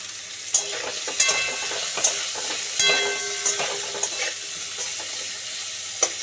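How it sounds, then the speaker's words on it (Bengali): Cauliflower pieces fry with turmeric in a pan, giving a steady sizzle broken by sharp scrapes and clatters of stirring at irregular intervals, close by and without talk. "আগে ফুলকপিটা ভেজে দিই তারপরে সবজিগুলো ভাজবো"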